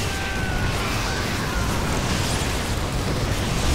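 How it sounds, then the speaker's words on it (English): Nuclear missile explosion in StarCraft 2, a loud, dense, continuous roar and rumble throughout without pause. "Another nuclear missile."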